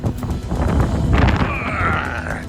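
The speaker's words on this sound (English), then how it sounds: "It's windy." Steady wind buffeting a microphone outdoors, a continuous low rumble with a faint whistling tone rising later.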